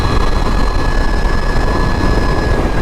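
A Sur Ron electric dirt bike fitted with street wheels accelerates in mode 1, well short of full throttle, giving a loud, steady whine with a constant rushing roar and no pauses.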